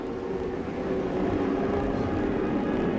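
TORC Pro 4 off-road race trucks pick up throttle before the green flag, a dense, steady, loud engine roar that swells slightly over the moment, with no talk.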